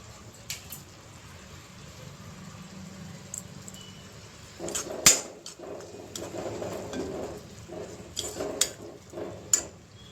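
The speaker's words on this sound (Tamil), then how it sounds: "இப்போ நல்லா கலந்து விட போகிறோம்" Goat spleen masala is stirred in a pan, giving soft squishing and scraping with a few sharp utensil knocks, busier after the first few seconds.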